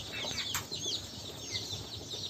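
Day-old rose chickens chirping: a steady cluster of high, thin peeps from many chicks close by, with a brief rustle or flutter near the start and no talk.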